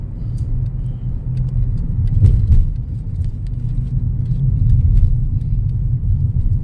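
A car drives slowly along a provincial road in Batangas, heard from inside as a steady, loud low rumble of engine and tyres with a few faint clicks and no talking.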